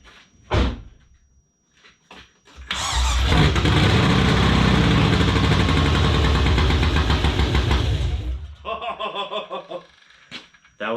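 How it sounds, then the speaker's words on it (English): A BMW E36 with a swapped LS V8 engine catches on carb cleaner and roars loudly for several seconds, then sputters and coughs in uneven bursts, with scattered clunks before it fires. "spray some carb cleaner in here and see if we can get it to sputter a little bit"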